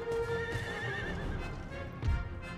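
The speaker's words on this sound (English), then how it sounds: "my regiment of horse is upset" Cavalry horses in the Empire: Total War game, a loud whinny with clip-clop of hooves over battle ambience, one clear neigh early followed by rumbling movement and a heavy thud near the end.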